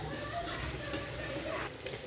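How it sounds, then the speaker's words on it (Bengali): Spices for prawn poppy-seed curry sizzle in hot oil with a steady crackle while a utensil scrapes and stirs the pan, close up. "মশলা খুব ভালো মতন ভাজা হয়ে গেছে"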